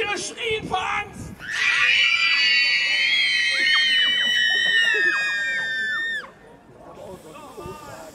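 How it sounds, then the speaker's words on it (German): Audience at a fairy tale show screams loudly on cue, a dense burst of many shrill voices that swells for several seconds and then cuts off, with scattered chatter before and after. "Das Publikum schreit, wir saufen ab! Wir saufen ab!"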